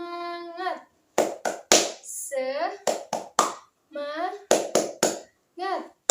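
A school class of seventh-grade children performing a rhythmic spirit clap, sharp bursts of hand claps in patterned groups alternating with children chanting loudly between them.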